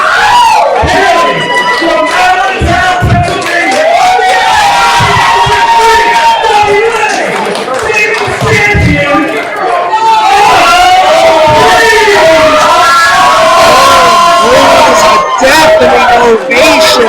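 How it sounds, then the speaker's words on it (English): A loud, packed wrestling arena crowd cheers and roars continuously in ovation for the champion, Slammin Sammy, with dense shouting and babble sustained throughout. "Definitely ovation here."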